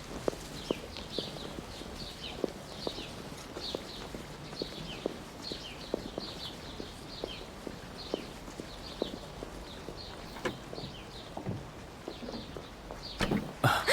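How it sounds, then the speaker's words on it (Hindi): Horse hooves clip-clop at a steady walking rhythm for the whole stretch, clear and fairly close, with outdoor background noise and no talking. "घोड़ा हमें जल्दी पहुंचा देगा।"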